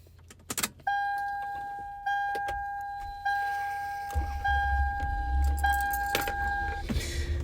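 A car setting off as keys jangle near the start, a steady electronic chime tone repeating in pulses, then the engine rumble rising as it begins to move, all close and without talk.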